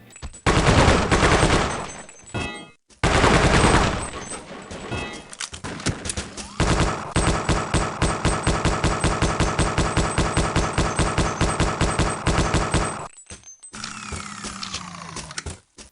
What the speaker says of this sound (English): you can still bust out the Gatling gun to throw a bunch of lead downwind